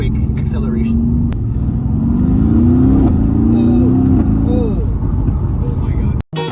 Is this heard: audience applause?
no